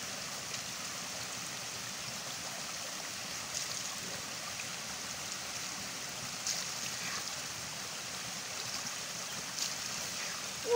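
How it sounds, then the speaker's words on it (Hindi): Cold, clear water flows down from the hills in a steady, faint rushing stream that runs without a break, with no voices over it. "हाँ बहुत ज्यादा ठंडा पानी है भाई, ऊपर से पहाड़ियों से आ रहा है ना"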